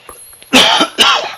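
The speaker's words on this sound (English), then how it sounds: "Oh, I do apologize for that cough" Two harsh, close coughs from someone narrating a Minecraft game, the second following shortly after the first, with quiet between.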